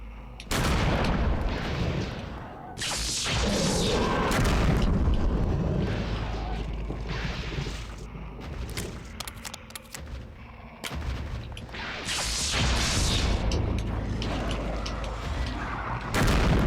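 Booming explosions with rumbling, crackling blasts in the video game Eternal Darkness: Sanity's Requiem, loud and dense, several bursts with brief lulls between them, no voices.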